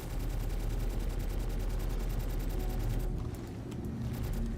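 Ship weapons in Star Citizen fire in a dense, continuous rapid burst, loud and steady throughout, briefly thinning near the end before resuming.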